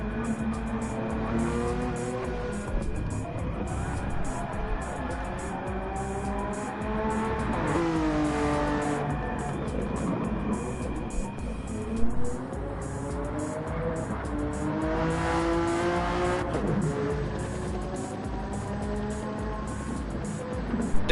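Race cars lapping the Barcelona circuit in Gran Turismo 7, engines whining and rising through the gears as several cars pass in turn, steady and moderately loud, with occasional tire noise and no talk.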